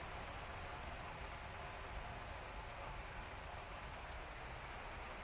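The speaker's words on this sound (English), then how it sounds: "it literally started raining the second I walked into the garage" Rain falls steadily outside a garage, a dense, even hiss of drops with no breaks, close and moderately loud.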